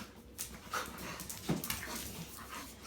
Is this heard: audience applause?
no